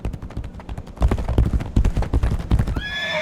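Horse from the video game Legend of Kain: Ascendance, hooves clip-clopping in a quick gallop that swells louder, ending with a shrill neigh, up close.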